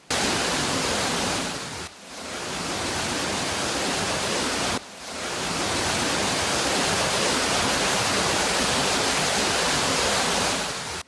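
A strong, steady roar of rushing river water, loud and close, with two brief dips in the flow before it surges on.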